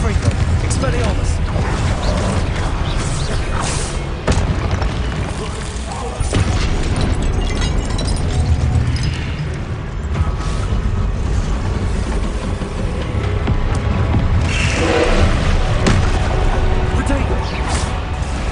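Confringo blast spells go off in Hogwarts Legacy, loud booming explosions repeating over about eighteen seconds amid dense game effects, with a voice shouting spell names throughout.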